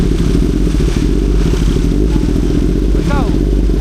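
A motorcycle engine running after being started, a loud, close, steady rumble throughout, with people talking over it.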